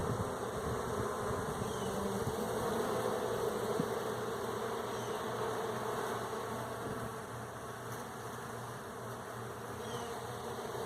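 Honeybees in an open hive give off a dense, continuous buzz close by, a steady drone that holds its loudness throughout.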